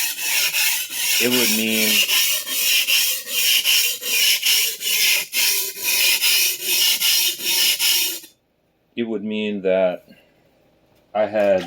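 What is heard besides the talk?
sharpening a vintage Clyde Cutlery chef knife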